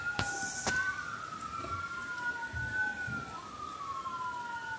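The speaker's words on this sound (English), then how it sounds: "Here comes the ambulance fire truck." A fire truck siren wails with a rising and falling tone during a typhoon, sounding at moderate distance over a constant roar of wind and rain, with a couple of short sharp bursts near the start.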